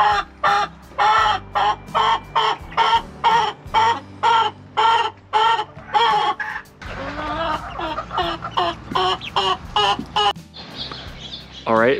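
Cornish Cross chickens in a coop cluck in a steady series of loud, close calls, rising into busier squawking from several birds toward the end.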